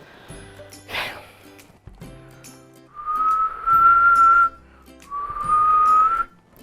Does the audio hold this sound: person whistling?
yes